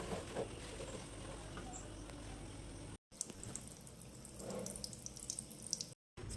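Water runs steadily from a tap during a bath, a continuous close splashing hiss with two short breaks in the sound.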